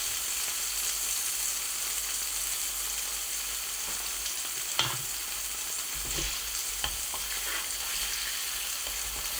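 Tomatoes frying in a pan with salt and black pepper, stirred with a wooden spatula: a steady close sizzle with occasional scraping knocks from the spatula, no voices.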